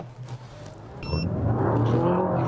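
A Mazda CX-80 2.5 PHEV plug-in hybrid pulls away hard in a 0-100 km/h run, its engine and drivetrain note rising steadily from a low hum into a stronger, sustained roar, heard from inside the cabin.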